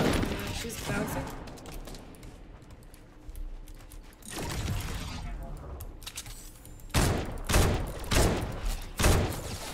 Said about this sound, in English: I'm getting shot from the west.